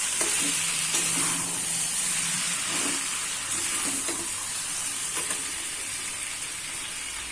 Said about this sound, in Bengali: আলুটাও দিয়ে দেবো দেখুন আলুর সাথে চিকেনটা আমি কষিয়ে নিচ্ছি